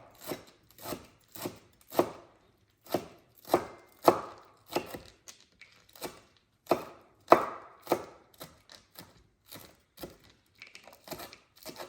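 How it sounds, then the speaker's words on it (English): Mint, green onions and other herbs being finely chopped with a knife on a board for raita, a steady run of close, crisp knife strikes with short pauses between bursts. "So we finely chop everything. There is mint,"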